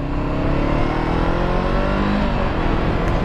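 A 2019 Honda CBR 500 motorcycle engine revs and accelerates, a loud sustained close-up roar with the pitch climbing steadily.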